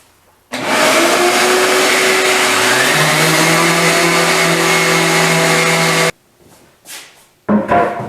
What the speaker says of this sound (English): I'm going to go ahead and sand these tops down